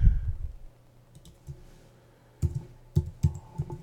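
Numbers are keyed in on a computer keyboard for a Swift radio-button setup on a Mac: a few soft clicks early, then four or five sharper, close keystrokes in an irregular rhythm against a quiet room.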